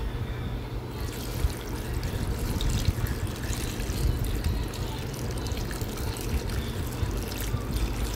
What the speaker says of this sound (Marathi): व्यवस्थित अशी 2 पाण्याने आपण स्वच्छ धुवून घेणार आहोत फरसबी।